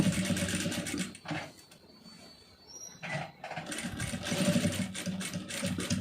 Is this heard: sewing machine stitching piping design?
yes